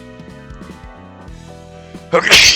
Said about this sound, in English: Sorry, I sneezed.